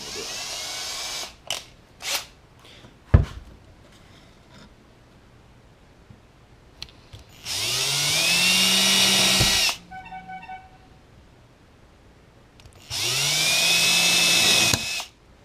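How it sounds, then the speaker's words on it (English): A small power drill with a 1/4 inch bit whines in two sustained bursts, a few seconds each, drilling a badge holder, after some short clicks and knocks, with no voices. "So generally I'll use around a 1/4 inch drill bit on this."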